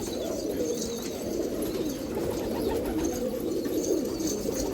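Old pigeons kept for about forty years by a keeper on Nashik Road coo steadily, several birds at once in a dense, continuous low murmur with no talk over it.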